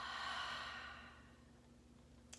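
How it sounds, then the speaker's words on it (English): A single soft breath, an audible exhale through the mouth that starts fairly strong and fades away into quiet over a couple of seconds, close to the microphone. "Breathing in through the nose and out through the mouth."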